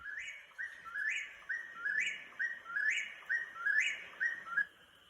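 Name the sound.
whippoorwill birds calling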